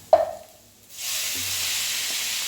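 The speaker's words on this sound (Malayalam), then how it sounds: "ഇനി അതിലേക്ക് നമുക്ക് തക്കാളി ചേർക്കാവുന്നതാണ്." Chopped tomatoes drop into a hot pan of oil with a soft thud, then a loud, steady sizzle rises and holds close by.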